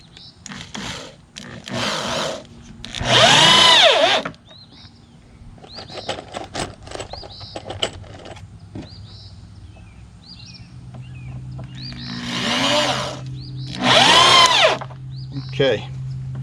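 A power drill drives long screws into a 4x4 wooden post during a grow box build, with two loud whirring bursts separated by quieter handling sounds and background noise.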